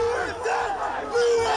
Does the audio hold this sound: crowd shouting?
yes